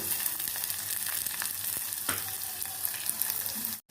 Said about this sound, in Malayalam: ഇതിലേക്ക് നമുക്ക് ചോപ്ഡ് ഓണിയൻസ് ഇട്ട് കൊടുക്കാം.